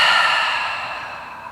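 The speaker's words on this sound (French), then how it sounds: "Longue expire par la bouche" A long, close breath out through the mouth during yoga breathing, a soft airy rush that slowly tapers off over about a second and a half, with no talk over it.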